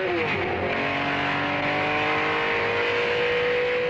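An Alfa Romeo Tipo 33 race car screams along the Targa Florio road circuit, its engine note loud and continuous and close at hand, with the pitch climbing and shifting as it accelerates.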